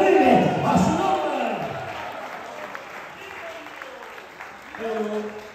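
A church congregation breaks into loud applause mixed with shouts. The clapping fades over several seconds, then briefly swells again, while a speaker's voice carries over it.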